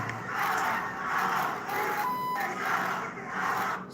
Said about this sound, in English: the groups of crowds are shouting anti-Muslim chants